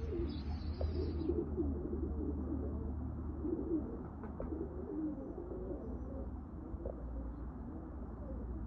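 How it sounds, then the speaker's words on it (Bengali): A pair of Omani teddy pigeons, a male and a female, coo close by in a low, continuous, murmuring drone with soft repeated pulses and no voices over them. "এই হচ্ছে এক পেয়ার উস্তাদ আলী শাবানের কবুতর"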